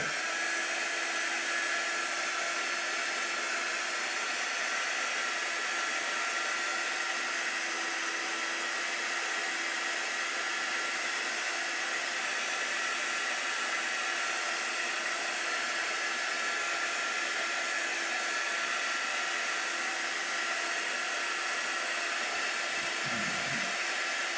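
Heat tool blowing steadily to dry chalk couture ink on little white flowers, a continuous loud airy whoosh running unbroken throughout with no talk.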